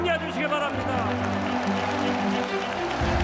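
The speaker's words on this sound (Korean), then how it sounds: "김하나 목사님 나오실 때에 뜨거운 박수로 격려해 주시기 바랍니다" A church audience gives warm applause as Pastor Kim Ha-na comes forward at a large Korean Christian gathering. Steady crowd clapping runs throughout, mixed with tonal sound from voices or music.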